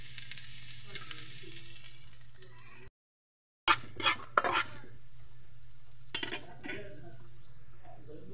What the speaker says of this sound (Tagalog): Mainit na yung ating mantika. Lagay na natin yung ating bawang.